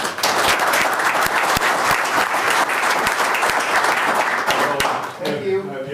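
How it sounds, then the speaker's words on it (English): Audience applause at a city commission meeting fills the room for several seconds, loud and steady, then fades out as a voice begins speaking. "I think that deserves a round of applause."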